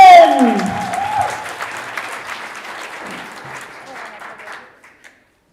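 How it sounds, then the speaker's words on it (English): Audience applause at a primary-school speech contest: a dense burst of clapping that starts loud and gradually thins and fades to silence over about five seconds. "Last round of applause"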